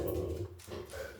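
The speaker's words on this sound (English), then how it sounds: "It's my dog, Buddy." A pet dog named Buddy barking at someone passing by a house window, a short muffled bark or whine heard once, fairly quiet.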